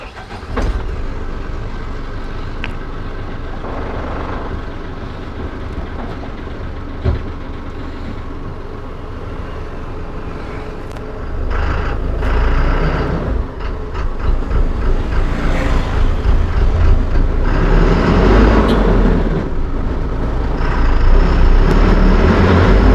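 An Ashok Leyland Oyster BS6 52-seat staff bus with a Kondody body drives along, its diesel engine droning and rumbling under rattles and road noise. The sound grows louder and heavier partway through as the bus picks up speed, and no one talks.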